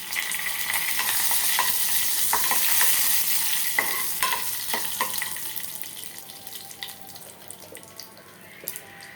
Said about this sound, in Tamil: நல்லா பொரிஞ்சோடனே கருகப்பிலை காஞ்ச மிளகாய்